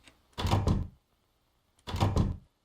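A door opening in the horror game Confined, heard as two separate heavy thunking bursts about a second apart, each with a short rattle, close and loud against near silence.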